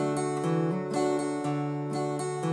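Close, clear acoustic guitar in Carter picking, alternating bass notes with strummed chords and an occasional hammer-on, played in a steady, even rhythm with no talking.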